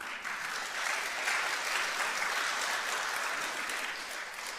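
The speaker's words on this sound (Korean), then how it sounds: "박수 한번 하세요." Sustained applause from a church congregation at a community gathering, a dense, even patter of many hands clapping at moderate volume with no voices over it.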